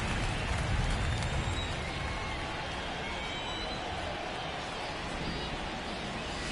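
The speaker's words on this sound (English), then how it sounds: "This rain is not letting up." Rain pours over a baseball stadium during a Rockies at Padres game as a dense, steady hiss that holds throughout, close and loud, with a faint crowd murmur beneath.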